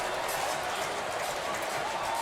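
Stadium crowd at Murrayfield roars and applauds after a try in the Edinburgh University versus St Andrews University rugby varsity match, a dense, steady wash of distant cheering and clapping with no pauses.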